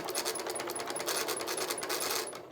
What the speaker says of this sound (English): I can stop and turn reverse on, and then it will just continue to sew in reverse until I turn that off again